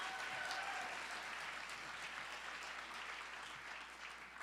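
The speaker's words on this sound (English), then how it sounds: "yes, let's clap for that." Steady applause from an audience at a live theater awards ceremony, dense and sustained throughout, moderately distant.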